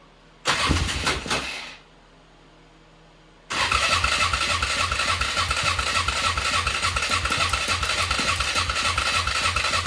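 A 2004 Polaris Scrambler 500 ATV with a freshly fitted carburetor briefly sputters to life and dies, then after a short pause fires up and keeps running with a steady, loud, close engine note.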